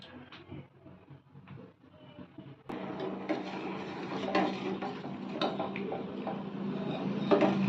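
A pan of jaggery and water being stirred to melt, with quiet clinks at first, then steady louder scraping and metallic knocks of the utensil against the pan.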